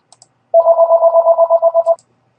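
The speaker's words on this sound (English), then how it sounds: "I'm going to have to get that phone." A telephone rings with one long warbling electronic trill of rapid pulses lasting about a second and a half, loud and close in an otherwise quiet room.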